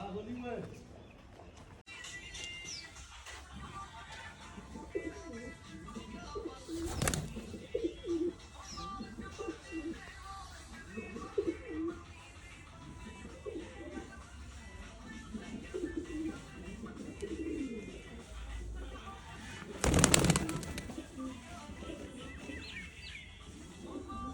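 Pigeons in a backyard loft give soft, intermittent coos, faint and somewhat distant, under ongoing conversation and scattered handling noises, with one louder knock or clatter near the end.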